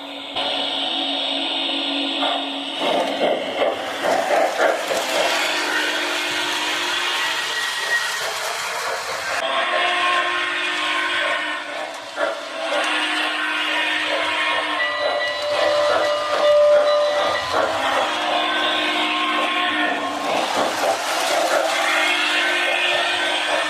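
An MTH Railking SP Daylight GS-2 model train whistle shrills on and off in sustained bursts over a humming motor, close and steady, with no talking.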